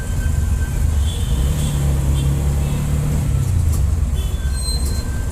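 Slow car traffic crawls behind a JCB on a Chennai city road, a steady, close, low engine rumble with faint horns and road noise and no clear speech.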